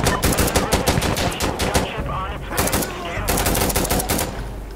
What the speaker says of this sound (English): What the fuck are you shooting at, my guy?